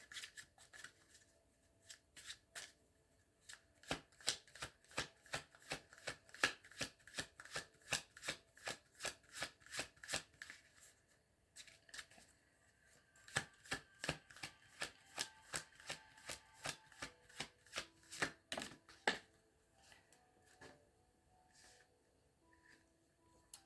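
A Mystic Forest tarot deck is shuffled by hand, producing long runs of crisp, rapid riffling card snaps in bursts with brief pauses, close and quiet with no talking.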